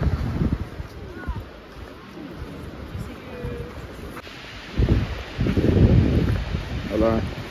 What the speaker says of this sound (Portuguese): Desculpa o vento, Patagônia. Vento de rachar